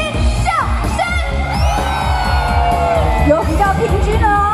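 A large outdoor concert crowd at the Lotus Pond festival in Zuoying, Kaohsiung, screams, whoops and yells loudly and continuously over amplified music during a show.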